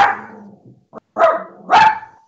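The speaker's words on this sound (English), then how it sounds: "Whose dog is that?" A dog barks loudly and close by, a few sharp woofs with short gaps between them, alone with no talk.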